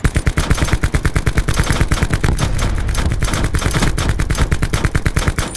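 Rapid automatic gunfire in Call of Duty: Black Ops 4 Blackout, a loud continuous stream of sharp shots with almost no gaps, heard on its own without voices.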